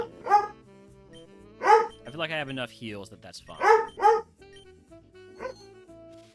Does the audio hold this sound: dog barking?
yes